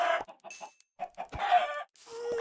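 Chickens in the Minecraft VR video game give short, close clucks and squawks in quick bursts, loud and clear with brief gaps between them.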